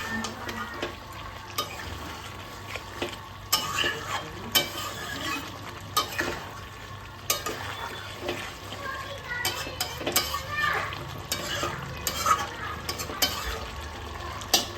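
Cauliflower curry with garam masala cooks in a pan, its soft, steady sizzle broken by repeated scraping strokes of a spoon stirring against the metal at an uneven pace.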